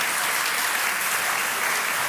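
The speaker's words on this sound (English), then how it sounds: "they deserve a round of applause" Steady applause from an audience at an evening talk, a dense even wash of many hands clapping at once, close and continuous with no voices over it.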